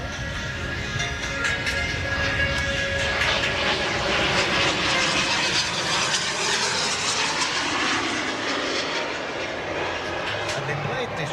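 An Avro Vulcan flies with a second aircraft at the Elvington airshow, a continuous loud jet roar that stays steady throughout, with music and voices faintly mixed in.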